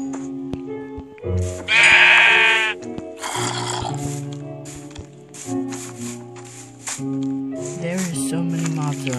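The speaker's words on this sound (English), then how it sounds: "And there's sheep." Sheep in the Minecraft video game bleat twice in quick succession over soft, steady in-game background music and ambient game sounds.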